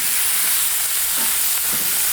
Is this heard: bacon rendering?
yes